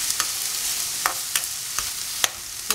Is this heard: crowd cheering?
no